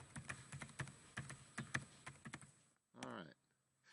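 Fingers type on a computer keyboard at close range, a quick run of crisp, irregular key clicks, then a pause and a brief voiced sound near the end.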